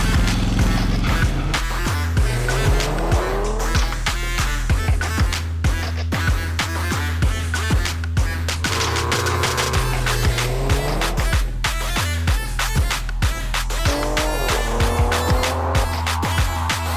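A BMW 340i with M Performance parts is driven hard, engine revving up and down through repeated accelerations with short squeals and tire noise, loud and close throughout.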